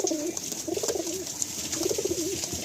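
Pigeons cooing softly in repeated low, throaty phrases during a release at a loft, with a steady background hiss and no talk.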